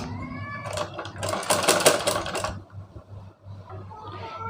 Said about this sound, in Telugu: ఈ విధంగా ఇట్లా కుట్టు పెట్టుకోవాలి నీట్గా